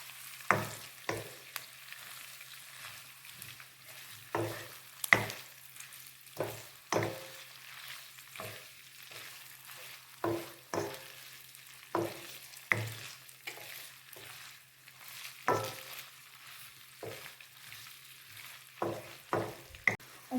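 Lardons frying in a pan with onions while a utensil stirs them, a soft continuous sizzle broken by repeated scraping knocks against the pan at irregular intervals, close and fairly quiet.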